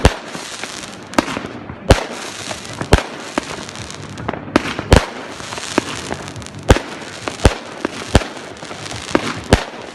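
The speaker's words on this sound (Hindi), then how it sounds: "जब घड़ी पर 12 बजे तो आतिशबाजी का शानदार सिलसिला शुरू हुआ, जिससे दरियाए राइन पर खूबसूरत रंग छा गए।" New Year's fireworks over the Rhine burst and crackle at midnight, a steady run of sharp, loud bangs at irregular intervals over a constant hiss of distant explosions and crowd noise.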